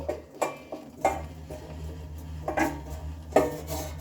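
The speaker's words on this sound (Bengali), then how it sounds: "বাঁধাকপিটা এখন আমি দিয়ে নিচ্ছি আর এই বাঁধাকপিটা ভালোভাবে আমি মশলার সাথে মিশিয়ে নেব" Cabbage tossed into a pan and stirred through spices for a Bengali cabbage and moong dal dish, giving a few sharp clinks and scrapes of a utensil against the pan with softer rustling between, close by and without talk.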